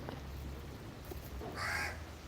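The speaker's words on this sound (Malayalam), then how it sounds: "എൻ്റെ കിളികളാണിത്" Pet birds calling at home, a harsh crow-like caw bursting out near the end over a low steady background hum.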